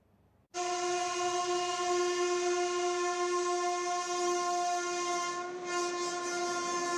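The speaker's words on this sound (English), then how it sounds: "This is not a regular train. This is Oxygen Express." A train horn blares loud and steady for several seconds, a long sustained blast with rich harmonics, from an Oxygen Express train carrying oxygen tankers in India.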